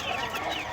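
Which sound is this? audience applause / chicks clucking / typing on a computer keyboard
chicks clucking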